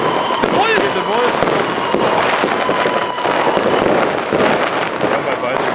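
New Year's Eve fireworks and firecrackers in Germany keep up a dense barrage of cracks and bangs, with a few whistling rockets rising in pitch. People shout and talk nearby.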